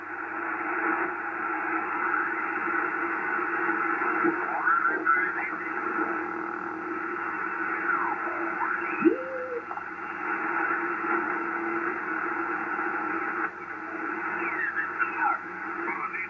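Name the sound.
ham radio receiver tuned across 80 and 40 metre bands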